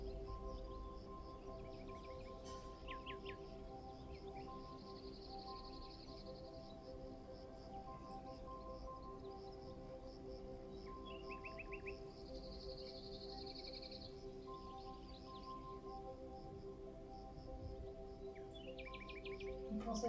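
Birds chirp and twitter intermittently outdoors over a steady low hum, with faint calls scattered across a calm background.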